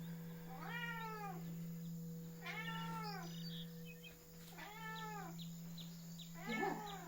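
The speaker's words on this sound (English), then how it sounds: "You guys can probably hear my cat meowing, Bamboos." A house cat meows three or four times in drawn-out, rising and falling calls spaced a couple of seconds apart, fairly close, over a steady low electrical hum in a quiet indoor room during a yoga session.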